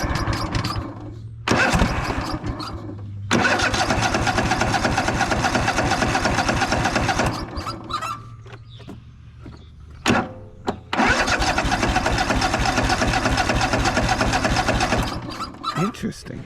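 A Craftsman DYS4500 riding mower that sat outside too long cranks and catches: loud, close bursts of rapid starter churning and sputtering engine firing, broken by short pauses and a brief stall before it cranks again.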